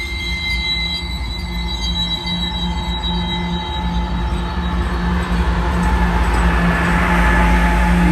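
A loud ethanol tank train hauled by ES44 locomotives rolls steadily by, wheels rumbling with sustained metallic squeals and tones, growing heavier toward the end.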